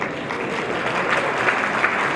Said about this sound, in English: Please open a round of applause for this people